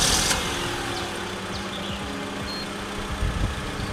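A 2002 Honda Odyssey with a 2.3 L engine catches with a brief burst, then settles into a steady, low, even idle rumble close by, with no talking.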